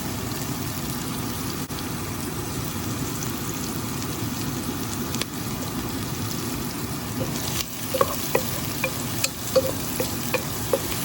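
Onions and ginger fry and are stirred in a pan: a steady close crackling sizzle throughout, with a few sharper scraping stirs and pops toward the end.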